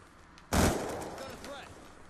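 A single loud, close gunshot bursts out in the video game Black Ops 2, then fades into a short echoing tail.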